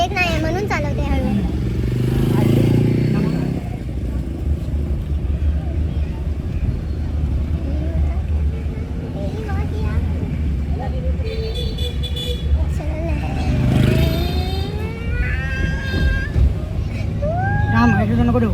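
A two-wheeler crawls in first gear through busy traffic, its engine a low steady rumble under nearby talk, with horns tooting intermittently around it.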